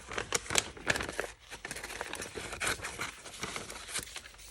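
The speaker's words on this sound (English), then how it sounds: "And when I'm cutting, I cut out the shape roughly first." Paper being cut out roughly into a shape for an abstract collage, heard as close, dry snips and crinkling rustles in quick irregular bursts, fairly quiet with no talking.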